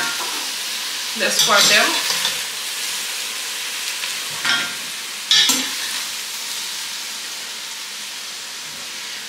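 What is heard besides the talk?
eggplant slices frying in oil in a pan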